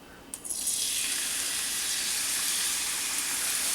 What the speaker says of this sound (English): I can feel that my oil is pretty hot, so I'm going to go ahead and add my onions in